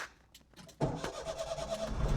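A car engine starting again during a driving lesson, a short crank and then a catch into a steady idle, fairly quiet and with no talk.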